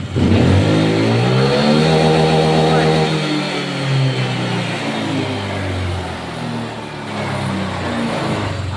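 A Honda Click 150 V2 scooter engine revs hard on its center stand, a loud rising whine that holds high, then drops into a steadier lower drone with small surges, close and continuous throughout.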